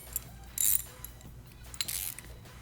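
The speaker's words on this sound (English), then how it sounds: "grab our 2 ratchets, making sure we're tightening on both" Two ratchets tightening frame slider bolts on a Honda Grom motorcycle, giving a few short, close metallic clicking bursts with quiet gaps between them.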